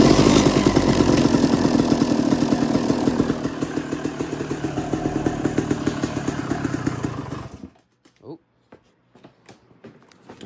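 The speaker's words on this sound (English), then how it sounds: "just letting the bike warm up to warm to the touch, and then shutting it off" A 2002 Suzuki RM250 two-stroke motorcycle idles loud and close with a steady, rapid popping rhythm during a warm-up heat cycle, then cuts off near the end, leaving quiet with faint clicks.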